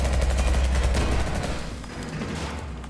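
Rapid gunfire from a noir cyberpunk 2D side-scrolling shooter video game rattles continuously in a dense burst and fades slightly toward the end, with no speech over it.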